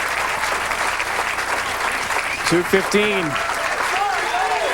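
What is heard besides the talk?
bowling crowd applauding and cheering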